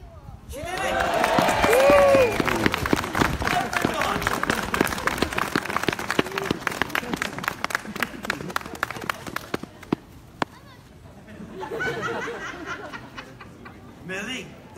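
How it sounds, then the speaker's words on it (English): A street theatre crowd in York claps, whistles and cheers, a dense burst of applause and shouts that builds, holds, then thins out, with a short second swell near the end and voices mixed in. "They all clap for you. They whistled and cheered."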